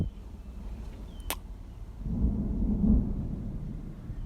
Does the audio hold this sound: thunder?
yes